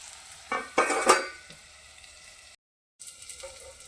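Fried ridge gourd tipped into sizzling masala in a pan, giving a burst of stirring scrapes and hot-oil crackle that settles into a quieter fry, then a brief drop to silence before the sizzle returns.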